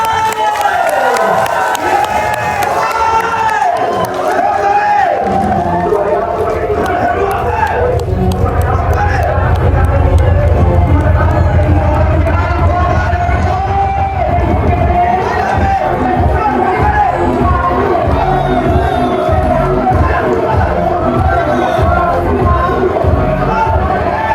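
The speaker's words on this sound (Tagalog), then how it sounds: "Palakpak at sigawan!" Wedding guests cheer and shout for a newly married couple in a sustained, loud crowd roar mixed with clapping and voices, with chatter and shouts layered throughout.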